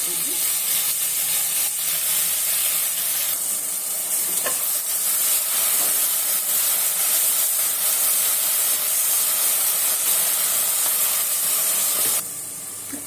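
Ground mint and coriander paste hits browned onions in the pan for chicken biryani, a loud steady hiss and sizzle with occasional stirring, then a sudden drop in intensity near the end.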